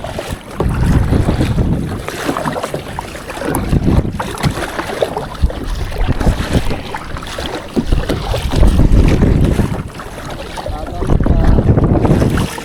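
Strong sea wind buffets a kayak during ocean fishing, a loud continuous rumble with gusting surges and lapping waves throughout, and no speech.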